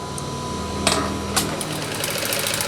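Sewing machine stitching the top middle of a three-layer cloth face mask, a steady close mechanical whir running throughout, with two brief sharp clicks partway through.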